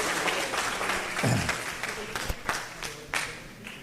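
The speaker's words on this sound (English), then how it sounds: "One last round of applause for our track team" A school board meeting audience applauds the track team, steady moderate clapping from a room of people with a few sharper claps standing out.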